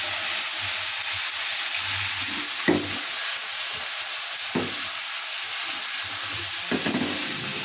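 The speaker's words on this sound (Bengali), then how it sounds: "এভাবে একটু হাই হিটে ভাজলে কি হয় আর কি চিকেনটা সুন্দর লালচা লালচা একটা কালার হয়" Steady hissing sizzle of chicken frying on high heat, with a few scraping stirs of a utensil breaking through, close and alone.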